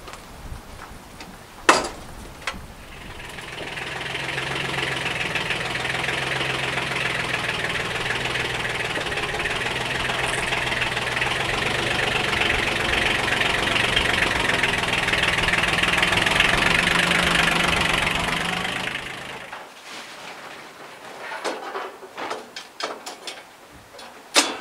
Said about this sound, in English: got to get this tractor out of the way